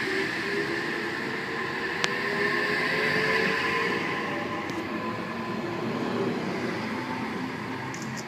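An Oscar passenger train pulls away from a station platform on the Kiama Picnic Train trip, a steady broadband rumble of rolling wheels and carriages with faint squeals, moderately distant and constant, with no talk.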